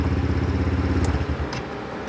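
A 150cc GY6 scooter engine running just after a kick start, a close, loud low putter settling into a steady idle with a couple of small metallic clicks.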